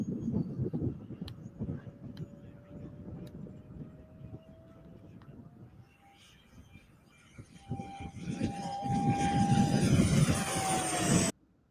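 Twin-fan radio-controlled model airplane in flight, a steady whine that rises in pitch and grows louder as it passes close, over continuous outdoor background noise.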